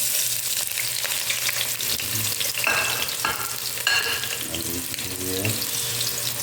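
Onions sizzle steadily in a hot pan for chicken liver adobo, with stirring scrapes and occasional utensil clinks over a continuous crackling bed.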